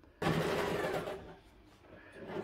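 A sewing machine stitches the shoulder and side seams of a hooded coat's lining, starting abruptly and running loud and steady for about a second before easing into a softer, continuing whir.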